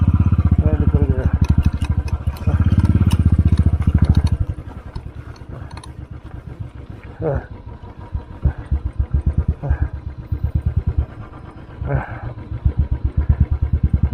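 Motorcycle engine on a mountain road, loud and rough, running unevenly and skipping with sputtering bursts before settling into a choppy idle-like chug, with intermittent clattering.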